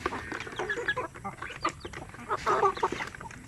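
Native chickens cluck and call in a farm flock, several birds clucking in short irregular bursts at moderate distance with steady farmyard background and no speech.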